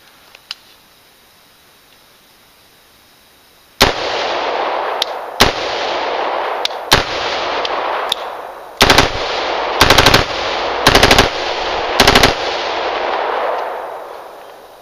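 Black rifle firing at an outdoor range: a series of loud, sharp single shots, then rapid bursts of closely spaced reports with ringing decay between them, close and dominant with no talking.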